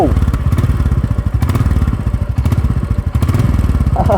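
A Royal Enfield Classic 350 motorcycle, still in its break-in period, idles loudly and close by with a steady, deep thumping beat, its low pulses repeating evenly throughout with brief clattering accents.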